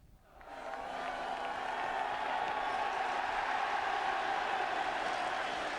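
Big capacity all-ticket football crowd at Dean Court for Bournemouth v Manchester United in the FA Cup fifth round, a steady broad roar and hubbub swelling in within the first second and holding loud throughout.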